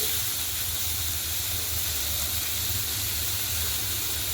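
Fish pieces fry in a small amount of oil, giving a constant, even sizzling hiss with a low background hum and no talking.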